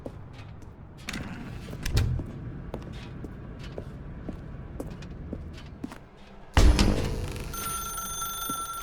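A telephone rings in The Stanley Parable: Ultra Deluxe, a bright repeating tone that starts about two-thirds of the way through and holds steady after earlier faint footsteps and room sounds in a quiet game scene.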